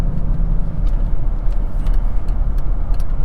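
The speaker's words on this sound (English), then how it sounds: "I'm driving in a 600 S-Class Mercedes after all." Steady interior rumble of a Mercedes S600 S-Class driving, a constant loud low drone of road and engine noise with a few faint light ticks and no talking.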